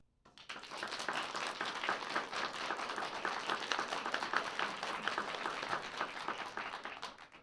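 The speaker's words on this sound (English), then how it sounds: "I want you to clap, and we will use the clap-o-meter to determine the winner of this debate" A debate audience claps to vote for the proposition in a British open borders debate, a dense, sustained wave of applause that starts abruptly and holds steady and loud throughout.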